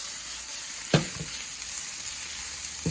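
Cabbage stir-frying for chicken chow mein, a constant close hiss of sizzling with a sharp utensil clank against the pan near the start and another at the end, no voices.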